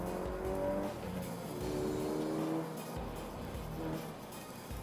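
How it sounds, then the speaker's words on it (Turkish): A Peugeot RCZ R engine pulls hard above 3500 rpm, its loud, continuous drone rising in pitch over several seconds with a brief dip between surges, heard from on board without talk. "motor alt devirlerde çok canlı hissettirmese bile özellikle 3500 devirin üstüne çıktığınız zaman bambaşka bir çekiş ve bambaşka bir ses sunuyor size"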